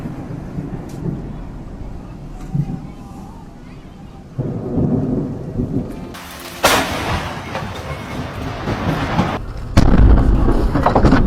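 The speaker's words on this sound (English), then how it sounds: "Horrific lightning strikes with the most bone-chilling thunderclap you'll ever hear." Loud rolling thunder from a lightning strike, booming in several heavy surges that grow stronger toward the end, with a sharp crack near the middle and rain-like hiss underneath.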